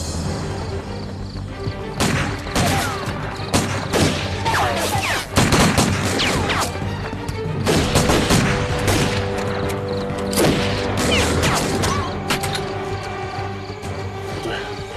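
Heavy gunfire rattles through a war film scene with Japanese soldiers, dense bursts and crashing impacts over a steady mechanical background, with speech mixed in.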